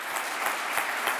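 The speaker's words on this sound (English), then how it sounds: "Thank you for your applause" Audience applause at a European heritage policy forum, a dense, steady wash of clapping from a roomful of people, loud and continuous with no voices over it.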